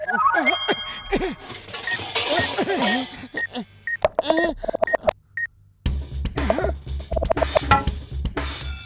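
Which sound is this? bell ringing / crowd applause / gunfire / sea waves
bell ringing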